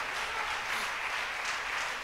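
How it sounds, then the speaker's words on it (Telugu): A church congregation applauds during a sermon, a steady, dense wash of clapping that carries loudly and evenly from start to finish with no break. "గట్టిగా చప్పట్లు కొడదామా?"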